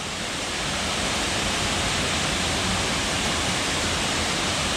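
Dog Slaughter Falls in Daniel Boone National Forest pours in a steady, dense roar of falling water, loud and unbroken from start to finish.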